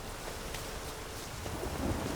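Rain and thunder in The Witcher 3 game world at sunset, a steady broadband hiss of rainfall with a low rolling rumble beneath, fairly quiet and unbroken.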